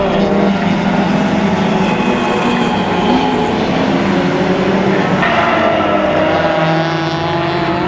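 Spec Miata race cars race at Mission Raceway in a closed-wheel event. Their engines make a loud, sustained drone with shifting pitch, heard near and continuous throughout.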